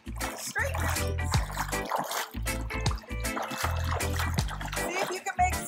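Water splashed by hand and body in a pool during low-back exercise, a busy run of close splashes and sloshes with short breaks, while a voice talks over it.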